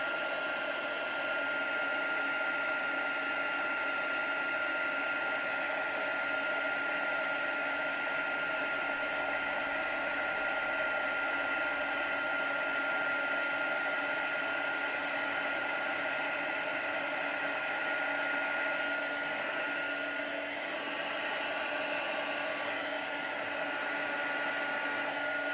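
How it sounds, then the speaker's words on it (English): A heat tool blows a steady, loud whooshing hiss for the whole stretch as it melts Brusho crystal colours, a constant airflow roar with a few faint tonal whines running through it and no talk. "I'm just going to melt this with my heat tool."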